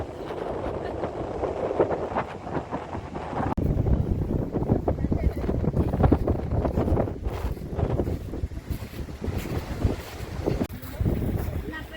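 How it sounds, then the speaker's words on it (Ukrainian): Strong gusting wind buffets the microphone with a steady roar during a storm, and water slaps and churns underneath, like waves against a boat. "Дуже сильний вітер, штормить, хвиля."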